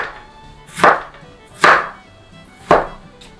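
A knife chops Korean zucchini into small dice on a cutting board for gang doenjang: three sharp, separate strikes about a second apart, close and clear, with no talking.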